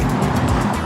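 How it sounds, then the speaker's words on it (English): Steady, dense vehicle rumble from a fully electric Audi Q6 e-tron car on the move, a continuous low drone with soft airy hiss above, loud and close throughout with no voices. "That's the sound of the fully electric Audi Q6 e-tron."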